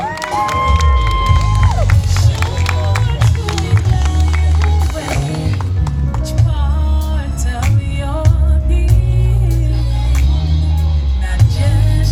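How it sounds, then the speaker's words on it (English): A loud crowd at an anti-bullying rally cheers and whoops while applause rolls on, with music playing underneath and a voice breaking through the noise. "Can we give them a round of applause just for that?"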